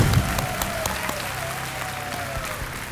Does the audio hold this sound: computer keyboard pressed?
no